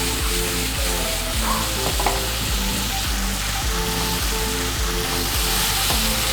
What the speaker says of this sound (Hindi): अब इसको हम 1 से 2 मिनट फाइनल फ्राई करेंगे।